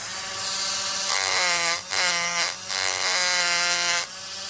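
A Ryobi DC500 detail carver, a small power scraper, buzzes in bursts, a rapid reciprocating rattle that starts and stops three times, close and fairly loud.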